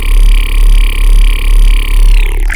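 A robot-style bass patch built in the Vital software synthesizer plays a loud, buzzing, gritty sustained tone that pulses in a steady wobble for about two and a half seconds, then cuts off.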